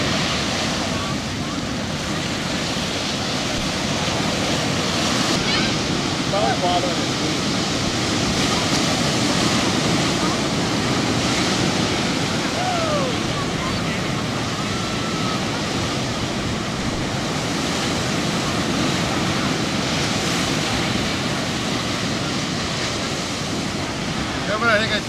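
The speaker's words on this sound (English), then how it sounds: "The waves look great, but they just can't catch them." Ocean surf breaking on a Nantucket beach where surfers wait for waves, a steady wash of rushing water and wind noise running loud and continuous throughout, with faint voices mixed underneath.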